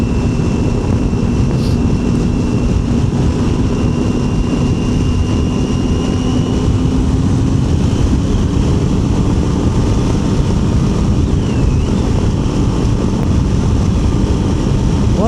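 A Triumph motorcycle engine on the move, heard as a loud, steady roar mixed with rushing wind, a constant drone with a faint held tone and no pauses.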